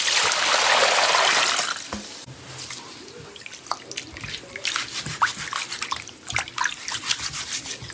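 Water splashing and washing out a cattle pen: a loud gushing rush at first, then a steady scatter of drips, trickles and wet knocks close by, with no talking.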